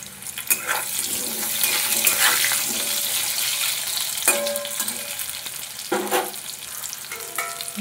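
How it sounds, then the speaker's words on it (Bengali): Potatoes fry with salt in a pan for a vegetarian soybean dish, giving a close, steady sizzle broken by several louder scraping stirs of the spoon. "ঢাকা দিয়ে আলুটা ভালোভাবে ভেজে নেব।"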